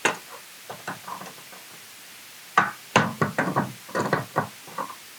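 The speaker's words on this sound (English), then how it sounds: "just squeeze that tab back down" A plastic tab on a GM intermittent wiper pulse board is pressed back down, giving a series of close, sharp plastic clicks and knocks in two uneven bursts, with no voices.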